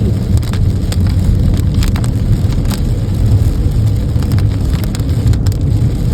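Steady rain drums on a car body, a dense continuous patter with scattered sharper drops striking close by; no voices.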